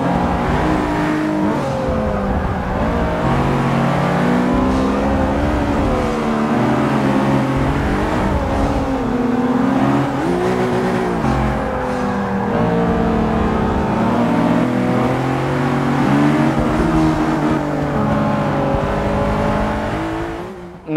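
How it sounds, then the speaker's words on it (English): A Honda Civic Type R engine screams loudly under hard acceleration, its pitch sweeping up and down repeatedly as it runs into the rev limiter a couple of times, with no talking. "there I hit the rev limiter a couple of times"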